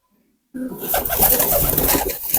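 After a moment of silence, a young pigeon coos close by over a rough, rustling background noise.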